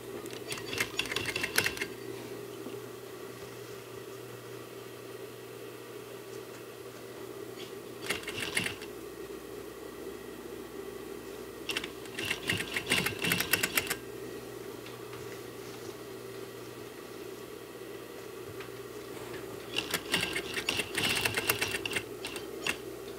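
A sewing machine stitches a sofa seat cushion cover in several short bursts of rapid mechanical clatter, separated by pauses where only a steady motor hum and faint handling of fabric remain.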